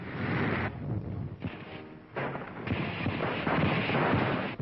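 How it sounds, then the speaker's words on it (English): Artillery fire from a 1943 North Africa newsreel at the Mareth line: heavy booming blasts in bursts, loud and close, with gaps between salvos and a muffled, band-limited old-film sound. "And now they blast them from the Mareth line. Tanks and artillery concentrate on the Gabas Gap."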